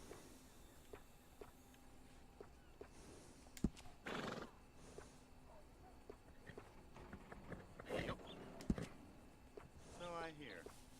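A horse in Red Dead Redemption 2 whinnies clearly near the end, after scattered hoof clops and snorting breaths in a quiet stable setting, with faint talk in the background.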